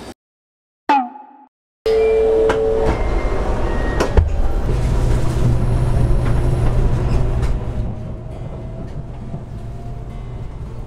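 After a brief thud and a door-like clunk, a steady rumbling hum fills the interior of a Shinkansen bullet train between Tokyo and Osaka, with occasional clicks and rattles.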